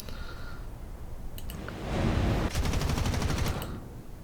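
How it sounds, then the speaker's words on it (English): Aircraft machine guns in War Thunder fire a short rapid burst of evenly spaced shots, loud and close, over steady engine drone with no talk. "He fires a burst."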